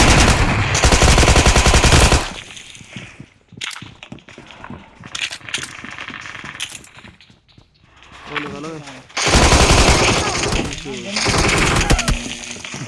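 Rapid automatic gunfire from a shooting video game rattles loudly in long bursts at the start and again near the end, with quieter shots and voices talking in between.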